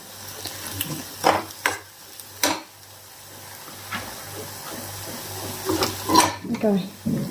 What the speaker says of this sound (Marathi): याला छानपैकी तेलामध्ये होऊ देते जेणेकरून लसणाचा जो कच्चेपणा आहे ना तो निघून जाणार